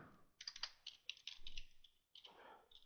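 Quick bursts of typing on a computer keyboard, close and fairly quiet, with a short pause before a final flurry of keystrokes.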